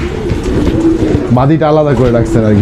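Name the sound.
fantail pigeons cooing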